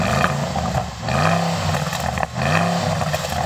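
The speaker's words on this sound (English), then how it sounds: "Go on, Jan, you rev up your car" A Porsche Cayenne Turbo engine revs loudly and close by, rising through two strong climbs in pitch with a brief dip between them and no voices over it.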